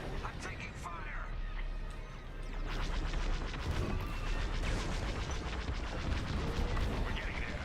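Dense, continuous blaster fire and mechanical clatter from a Star Wars video game battle, steady and loud throughout, with voices talking over it.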